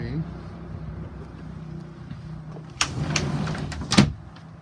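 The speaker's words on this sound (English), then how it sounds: "And then here we have a slider door." Sliding door on a 2020 Cruisers Yacht 390 Express Coupe, with a low hum underneath, then a couple of sharp sliding and latching knocks near the end, close and moderately loud.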